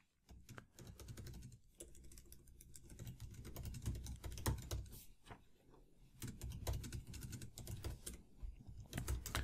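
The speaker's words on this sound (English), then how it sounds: "Let me just type it all out and then I'll explain it." Steady typing on a computer keyboard, a continuous run of close, crisp key clicks with brief pauses while entering Python dictionary code, heard alone with no talk.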